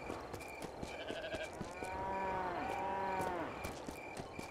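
Farm sheep in the Trader Life Simulator video game bleat in overlapping, wavering calls that peak midway, over a busy background of clicks and light ambient noise.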